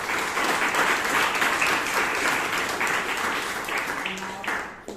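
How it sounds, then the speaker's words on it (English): Warm burst of applause from the audience at a Toastmasters meeting in Bangalore, sustained clapping that swells and then fades out near the end. "let's give them a big round of applause"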